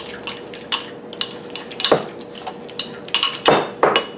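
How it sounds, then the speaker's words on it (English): Sour cream is stirred in a bowl with a utensil, producing irregular clinks and scraping taps against the dish, close and fairly crisp, with soft wet mixing between the knocks. "Mix that around in there really well."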